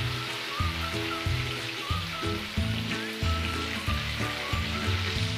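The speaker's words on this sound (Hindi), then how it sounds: "इसे भी हम अच्छा गोल्डन ब्राउन होने तक फ्राई कर लेंगे" Tomato pakoras frying in oil in a kadai on medium heat, a steady dense sizzle with crackling bubbles throughout, close and continuous.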